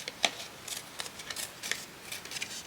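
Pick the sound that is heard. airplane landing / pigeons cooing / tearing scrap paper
tearing scrap paper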